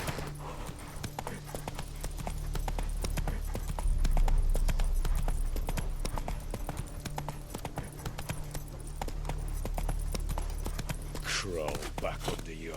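Roach the horse galloping in The Witcher 3: Wild Hunt, with a steady, loud clip-clop of hooves running through the whole stretch over a low game ambience, and voices heard along with the hoofbeats.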